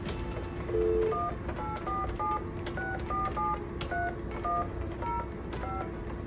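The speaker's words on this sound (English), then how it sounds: "So first I'm going to dial into my phone." Telephone keypad DTMF tones dialing into a Talkaphone ETP-500 emergency phone: a series of short, clear beeps in irregular groups over a steady line hum, with no voices.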